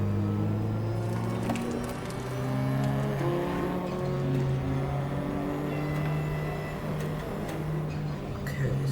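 A race car engine in the Raceroom sim racing game whines through a qualifying lap, gears stepping through a series of rising revs with tire noise, heard fairly quietly and alone.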